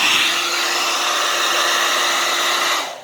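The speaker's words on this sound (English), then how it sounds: "So let's go ahead and get our hair dryer." A hair dryer blows steadily on medium heat, dusting the internal components of an unplugged Roku Insignia TV, a loud continuous whooshing rush that tapers off right at the end.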